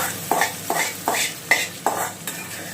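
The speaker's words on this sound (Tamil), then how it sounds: "இப்போ நம்ம தாளிப்பை சட்னியில் ஆட் பண்ணிடுவோம்." A spoon mixes tempering into chutney in a bowl, making about six evenly spaced scraping clinks against the bowl, close and clear.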